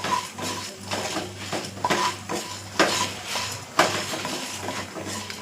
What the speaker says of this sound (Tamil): வரமல்லியை போட்டு நல்லா வறுத்து விடுவோம்.